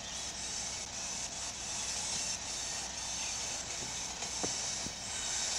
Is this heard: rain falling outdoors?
no